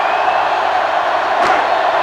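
Sellout stadium crowd in the NCAA Football 07 video game, a steady, loud roar of thousands of fans with a brief sharp thump partway through.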